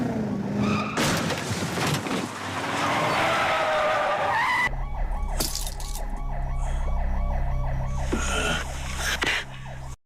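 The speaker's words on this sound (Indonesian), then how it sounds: "Hal buruk terjadi saat dua mobil menabrak mobil mereka untuk mengeluarkan Taesu" Cars skid with screeching tires, then a crash into another car is followed by rumbling engines and a wailing siren, loud and close throughout.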